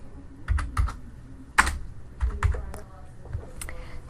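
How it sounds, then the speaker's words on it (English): Keystrokes on a computer keyboard as an Excel formula is entered, a run of close, crisp clicks in uneven bursts with one sharper key hit near the middle, no talking. "type in the equal sign, type in the math problem."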